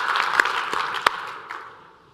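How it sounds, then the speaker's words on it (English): A conference audience applauding, a short burst of scattered claps that thins out and trails off within a couple of seconds. "Please give yourselves a round of applause"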